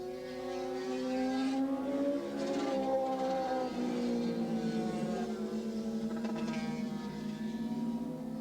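Formula race cars in a 1986 ARRA race at Willow Springs International Raceway whine past at high revs, engine pitches sweeping up and down with Doppler shifts as they round the turns at moderate distance.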